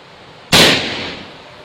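A single loud, sharp shot from an AFC Anaconda Sniper Elite air rifle, a sudden crack close by that decays over about a second, with no talking.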